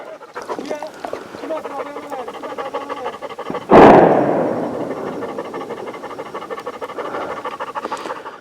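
A single sharp shotgun blast from a partridge hunt in the hills cracks out close and loud, then rolls away in a lingering echo, set against faint outdoor background sounds.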